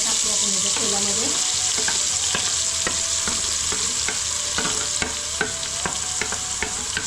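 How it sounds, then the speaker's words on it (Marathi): Freshly ground masala paste fries in hot oil for an Agri-style chicken curry, a steady sizzle overlaid with repeated scraping and stirring strokes of a spoon against the pan. "चला तेल गरम झालं, मसाला टाकूया आपण याच्या तेलामध्ये."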